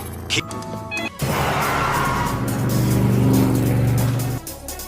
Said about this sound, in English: whoever's driving that sports car is pretty brave